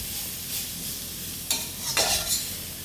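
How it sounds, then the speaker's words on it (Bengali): Fried fish with black cumin is stirred in a pan: faint steady sizzling under a few scraping strokes of a spoon against the pan, with no talking. "হালকা একটু নাড়াচাড়া দিয়ে নিলাম মাছ ভাজাটা"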